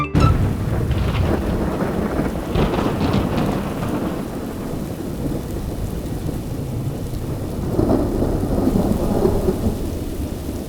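Heavy rain pours steadily in a street during a downpour, with deep rumbles of thunder rolling through the constant hiss; no one speaks.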